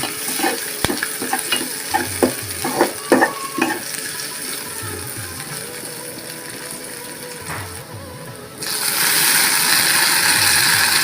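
Onions fry in oil for a vegetarian jute greens dish: a soft sizzle broken by clattering stirs early on, then a louder, steady hiss as more goes into the pan.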